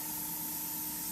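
A steady, close hiss of an airbrush spraying paint onto a dish, an even airy rush with a faint tonal whine and no pauses.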